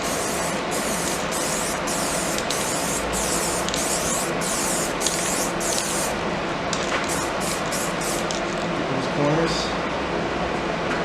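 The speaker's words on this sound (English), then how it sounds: "You just shake the can, of course, but look how nicely it goes on." Spray paint from an aerosol can with a nozzle fan hisses steadily onto a Mustang 5.0 engine bay, in a run of long close bursts with short breaks, then a rougher, more broken stretch of spraying.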